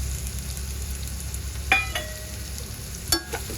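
Chilli powder, salt and turmeric are sautéed with spring onion in a pan, giving a low, quiet frying hiss with a few sharp metallic spatula clinks.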